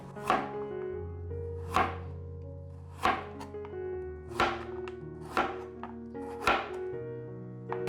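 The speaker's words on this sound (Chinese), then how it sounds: "把红萝卜切片" A knife slices a carrot on a cutting board, giving eight sharp, evenly spaced chops at close range, with no talking.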